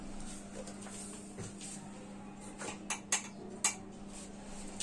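A spoon scrapes and clinks against a dish while adding ghee to washed Gobindo Bhog rice, a few sharp metallic taps standing out near the end over a low steady hum.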